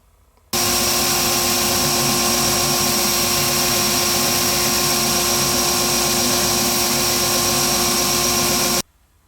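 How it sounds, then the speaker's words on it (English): Belt sander rounding the edge of a UHMW plastic scraper, a loud, steady, close grinding whine with an even motor drone, starting abruptly and stopping cleanly after about eight seconds. "we're going to take this over to the sander and I'm going to round off the outside edge of this 90-degree cut"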